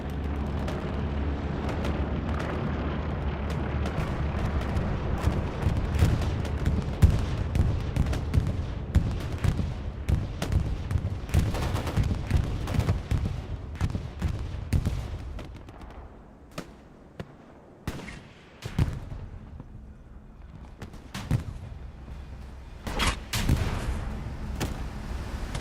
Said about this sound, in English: Taking some shots from the British recon tank.